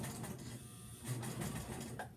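A sewing machine runs slowly while stitching around the circular edge of a fabric beer koozie, making a close, continuous mechanical hum and rattle throughout with no voices.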